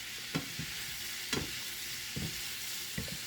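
Bitter gourd (ampalaya) frying in a pan for pork belly sisig, a steady sizzle with a few sharp stirring clatters spaced about a second apart, close and moderately loud.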